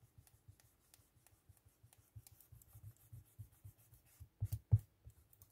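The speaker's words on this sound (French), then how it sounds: "je vais gommer le trop plein" An eraser rubs excess ink off a bullet-journal paper page in quick repeated strokes, a soft scratchy back-and-forth that grows a little louder toward the end, close and without speech.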